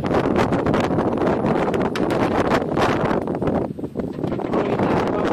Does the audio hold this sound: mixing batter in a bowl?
no